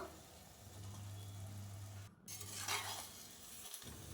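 Carrots, beans and other chopped vegetables being sautéed in hot oil in a pan, giving a steady close sizzle with scraping stirs and a brief pause partway through.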